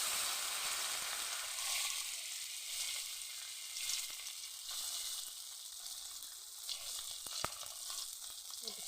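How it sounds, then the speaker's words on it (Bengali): Fish sizzles and fries steadily in oil in a hot wok, a continuous close crackle with no talk and one sharp brief pop near the end. "কড়াই গরম হয়ে গেছে, আগে ছেলের মাছটা দিয়ে দেবো।"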